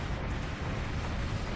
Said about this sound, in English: Alright, we've got missile locks. I'm going to fire off all our missiles there.